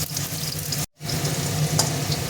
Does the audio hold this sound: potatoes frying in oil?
yes